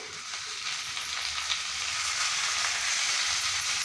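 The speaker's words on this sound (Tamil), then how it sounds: "வெங்காயம் பச்சை மிளகாய் நல்லா வதங்கிடுச்சு" Onions and green chillies sauté in a pan with tomato and salt, giving a short, quiet, even sizzle with faint stirring crackles and no voices.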